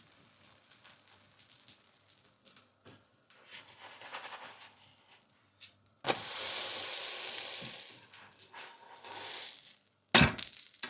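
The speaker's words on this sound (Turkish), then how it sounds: "Sıcak tavada çevirerek pişirelim." Cheese-filled bazlama flatbread cooking in a hot pan gives off sizzling and crackling, with low scattered sounds early on, then a loud, sustained hiss followed by a sharp burst near the end.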